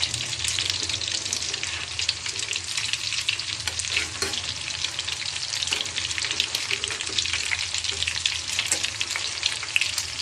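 Noodle pakora fritters sizzle and fry in hot oil in a pan just after being turned over, a steady dense crackle running throughout without pause.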